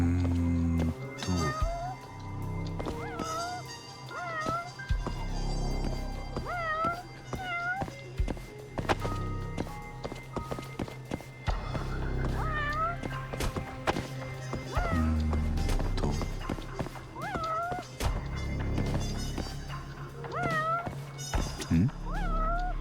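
Several stray cats meow repeatedly in the video game Judgment, rising and falling calls recurring at intervals over a game soundtrack with thuds and footsteps, with people talking in places.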